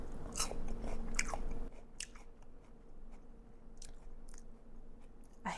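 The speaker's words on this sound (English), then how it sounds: "Texture is kind of like a crunchy apple." Someone bites into raw jicama and chews it up close, with crisp crunching bites at first that give way to softer, wetter chewing as the mouthful breaks down.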